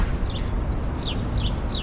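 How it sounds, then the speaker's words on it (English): Small bird chirping from a cherry tree in an outdoor park in spring, giving about four short, quick downward chirps spaced through the clip over steady low wind or city rumble. "The bird is resting on cherry tree."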